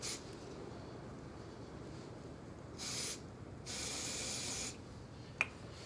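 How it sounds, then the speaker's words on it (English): Two bursts of a dry shampoo aerosol can spraying, a short hiss followed by a longer one, over quiet outdoor background with a small click near the end. "So I'm just going to spray the heck out of it."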